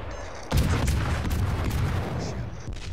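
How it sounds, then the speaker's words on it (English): Heavy naval guns of the Leningrad, a Tier 7 destroyer in World of Warships, open fire with a sudden loud boom, then a sustained rumbling roar of repeated gunfire and low rumble that continues without talk. "I figure I might as well open fire at this point"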